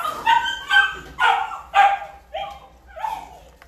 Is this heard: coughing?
no